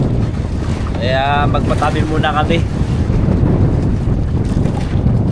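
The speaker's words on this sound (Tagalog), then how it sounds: "bigla namang lalong lumakas yung amihan" A strong northeast monsoon wind roars against the microphone on a small fishing boat at sea. Rough waves churn beneath, and someone speaks briefly over the steady blustering noise.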